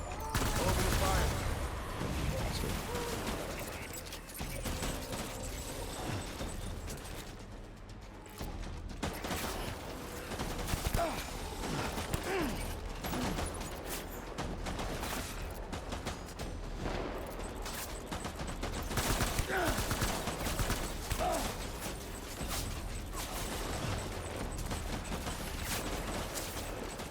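Rapid bursts of video game gunfire crackle continuously at moderate loudness, with voices talking over the shooting throughout.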